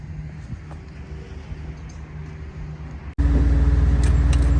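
A 1979 Chevrolet Camaro engine suddenly fires up after a few seconds of quiet idle-like rumble, then runs loud, close and steady with a deep throbbing rumble.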